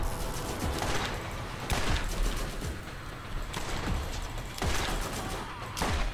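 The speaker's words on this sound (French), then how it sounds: "Lance-roquette." Continuous loud video game combat in Borderlands, with dense rapid gunfire and rocket launcher blasts in repeated bursts over a steady noisy din, no talk.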